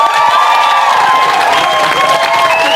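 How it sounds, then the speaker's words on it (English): A studio audience at a live chat show cheers and applauds loudly and continuously, crowd voices and whoops rising over dense clapping throughout. "Please give a round of applause."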